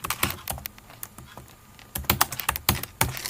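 Close, crisp computer keyboard typing in quick clusters of keystrokes, with a brief pause midway before a faster run resumes while entries are made in an Excel spreadsheet.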